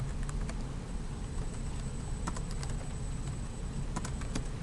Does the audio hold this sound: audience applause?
no